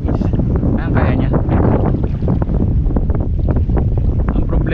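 Strong wind buffets the microphone at an outdoor fishing spot during a lightweight fishing rod field test, a steady loud rumble throughout with a voice speaking underneath.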